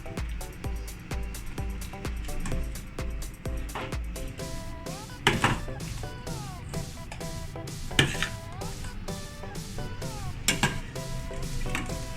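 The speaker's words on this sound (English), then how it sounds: "We use the strainer to remove the skins of the apple from the applesauce." Applesauce is worked through a strainer to hold back the apple skins, giving repeated scraping, tapping and clinking of utensil on metal in an uneven rhythm over steady background music.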